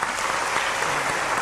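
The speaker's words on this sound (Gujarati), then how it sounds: "મહેશ માટે તાળીયા" An audience at a Morari Bapu Ram Katha gathering bursts into steady, even applause for harmonium player Mahesh, a short dense wash of clapping with no talk over it.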